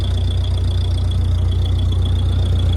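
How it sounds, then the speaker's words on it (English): An old Ford 8N tractor engine runs steadily, a loud, close, continuous low rumble with a constant drone and no talking. "And now this tractor's running great."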